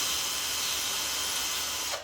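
Power drill boring a hole through wood into concrete, a steady, loud, continuous grinding whine that holds for about two seconds and then cuts off abruptly.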